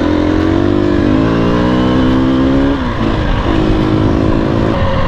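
KTM 250 EXC-F dirt bike engine revving hard while riding in third gear, loud and close, climbing in pitch then dropping and surging again as the throttle is worked, with no talking.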